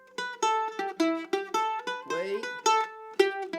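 Bright plucked mandolin notes pick out a short melodic phrase in C, with a brief tremolo flurry midway, played up close and solo.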